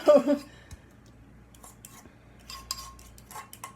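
Close clattering of a spatula against a plate opens the sound, followed by quieter intermittent metallic scrapes and taps as food is worked off onto the raised-rim plate; no talking.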